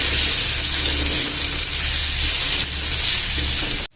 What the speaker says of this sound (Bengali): এই আদা রসুন কুচিটিকে ততক্ষণ পর্যন্ত ভেজে নিতে হবে